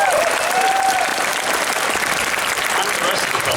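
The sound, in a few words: audience applause for the fursuiters at a convention panel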